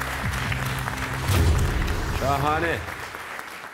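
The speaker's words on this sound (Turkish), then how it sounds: "Bir kez daha kendilerini coşkuyla alkışlıyor ve uğurluyoruz." Audience applause fills a Quran recitation contest hall, a steady wash of clapping that swells midway while a voice speaks briefly over it.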